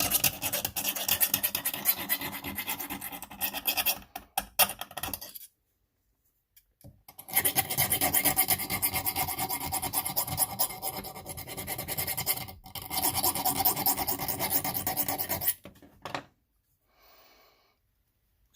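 A Spyderco knife is worked with a diamond file in three long stretches of close, steady rasping scrapes, broken by short pauses and ending in a brief faint pass.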